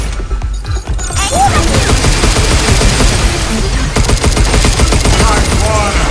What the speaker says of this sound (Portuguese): Atira agora!